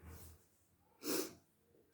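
Someone with hay fever gives a single sharp, breathy sniff up close in an otherwise quiet room, with a softer breath before it and a tiny click at the end.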